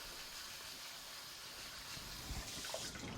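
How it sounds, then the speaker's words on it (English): Steady running water pours and splashes through a colander as it rinses and drains, without pause, a continuous rushing wash with a few small gurgles near the end. "I'll let the water drain off of that for just a second."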